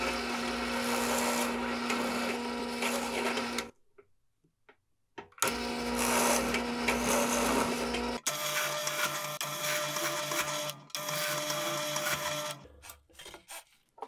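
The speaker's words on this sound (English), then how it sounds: "I'm going to use my actual drill press, which has a lot more power and should make this a lot faster" A drill press whines and grinds through wood with a 3/4 inch Forstner bit, cutting slots in sustained runs, stopping and restarting several times with a steady motor tone underneath.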